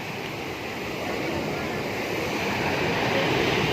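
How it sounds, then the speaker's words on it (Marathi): Sea waves wash steadily onto Daman beach in Gujarat, a continuous broad roar of surf with wind noise that swells slightly louder toward the end, with no voices over it. "सागर सागराच्या लाटा कशा"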